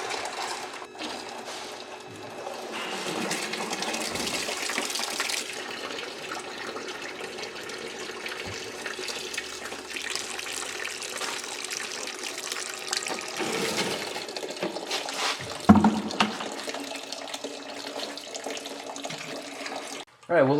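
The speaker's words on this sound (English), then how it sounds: "we'll let that oil continue to drain a little bit here" Engine oil drains from a car in a steady, continuous trickling stream that runs close and fairly quiet for about twenty seconds, with a brief clunk near the end.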